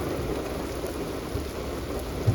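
Steady rain hissing continuously over Fulton Harbor, with a faint low rumble near the end, no voices.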